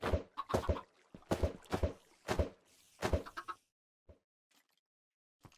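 Chickens in the video game Minecraft clucking in a quick, close run of sharp, bunched calls during the first three and a half seconds, then a few faint scattered clucks over near silence.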